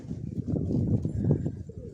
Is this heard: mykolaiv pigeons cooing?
yes